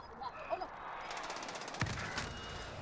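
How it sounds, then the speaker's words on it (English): Automatic gunfire in the video game Call of Duty Warzone, a fast burst of shots in the second half, fairly faint, with quiet game sounds before it. "they're shooting, they have high ground"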